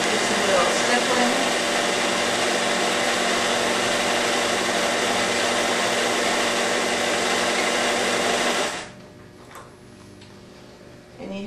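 A quilting machine fitted with DeLoa's Appliguide stipples fabric with a loud, steady, close mechanical whir and rapid stitching that runs continuously for about eight seconds, then stops abruptly.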